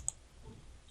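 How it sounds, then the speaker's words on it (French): A single sharp computer mouse click, close and quiet, lands near the start, followed by faint room tone. "On clique sur OK."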